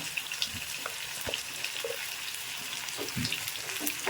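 Onions fry in oil in a pan for Bihari aloo matar curry, giving a steady moderate sizzle with scattered crackles and occasional soft stirring scrapes, close and unbroken.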